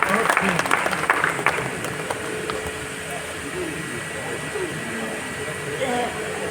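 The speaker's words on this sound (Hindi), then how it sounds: "जोरदार तालियों के साथ उनका स्वागत है।" Applause from the audience at a Hindi humorous poetry gathering welcoming a satirical poet, a moderate burst of clapping that fades into a softer, steady crowd murmur with some background hum.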